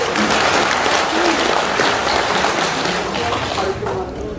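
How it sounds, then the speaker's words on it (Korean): Sustained audience applause at a clan association general meeting and seminar, a steady wash of many hands clapping at moderate level. "다시 한번 박수 보내주십시오."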